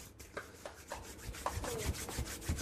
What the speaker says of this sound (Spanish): Vamos a batir primero un poquito de huevo.